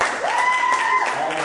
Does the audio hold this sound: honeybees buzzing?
no